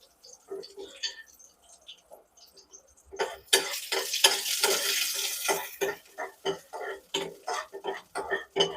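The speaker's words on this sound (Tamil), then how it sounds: "முந்திரி பருப்பு எடுத்து வச்சுருக்கோம்ல அதை வந்து போட்டு தாளிச்சுக்க போகிறோம்" Cashew nuts frying in a pan for tempering a coconut milk kozhukattai dish, with sparse utensil taps at first, then a burst of loud sizzling and repeated scraping stirs close by.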